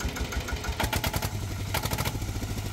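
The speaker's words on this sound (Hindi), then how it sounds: "तो ये इंजन स्टार्ट हो गया।" A four-wheel Sanedo tractor engine runs just after starting, with a steady, loud, close idle of rapid clattering knocks and a throbbing low hum.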